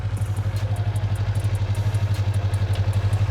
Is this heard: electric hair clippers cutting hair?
no